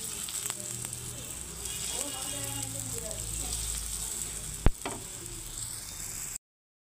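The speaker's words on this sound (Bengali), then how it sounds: "এখানে আবার একটা আমি ভেজে নিচ্ছি," Cheese paratha sizzles in a hot pan with a continuous close crackle, broken by one sharp clank of a utensil partway through.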